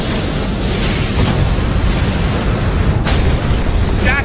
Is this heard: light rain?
no